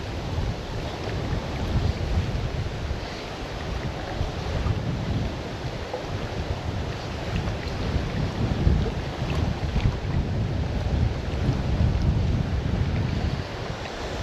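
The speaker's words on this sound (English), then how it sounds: "Gosh, that is a strong wind, that." Strong wind gusting across a microphone beside the River Doon, a steady broadband roar with surging buffets throughout and no talking.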